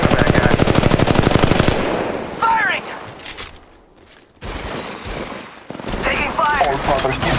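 Rapid automatic gunfire in the mobile shooter Apex Legends Mobile: a loud, near, rattling burst of evenly spaced shots, then sparser shots and clatter with a voice speaking in between.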